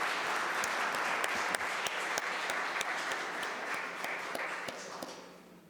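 Applause fills a city council chamber, a steady wash of many hands with a few sharp individual claps standing out, fading toward the end.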